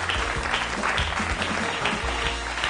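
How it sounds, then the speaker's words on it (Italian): A studio audience on an Italian cooking show applauds loudly and steadily, a thick continuous clatter of many hands, with a faint pulsing rhythm under it. "allora, applauso."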